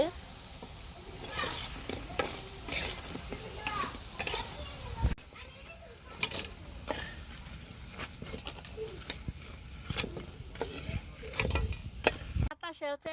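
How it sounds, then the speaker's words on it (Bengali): Piyaji (onion fritters) frying in a village home kitchen: a steady crackling sizzle of oil with intermittent scrapes and clatters of a utensil, with faint voices in the background. "এখন এই যে পেঁয়াজি বাজাইতেছে"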